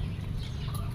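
Chickens cluck busily while being fed, a close cluster of short clucks over a low murmur of farmyard noise, with no talking.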